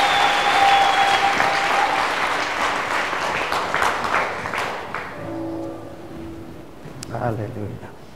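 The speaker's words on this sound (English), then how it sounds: "Clap for Jesus." A church congregation at a Sunday service claps together in a dense, loud burst that gradually thins and fades, with a voice speaking over the tail end.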